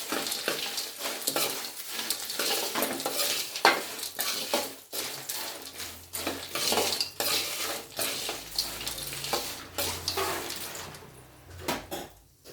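Ingredients for avalakki (beaten rice) stirred in a pan over a low flame, with a steady scraping and clinking of a utensil against the metal, rhythmic and close, with a faint sizzle beneath and no talking.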